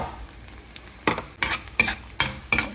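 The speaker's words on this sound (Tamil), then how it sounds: "நல்லா பூண்டு எடுத்து வச்சுருக்கேன், இது போட்டுடலாம்" Onions and garlic for chicken chukka fry in a pan as a utensil stirs them. Several scraping, sizzling bursts come in quick succession, close and moderately loud.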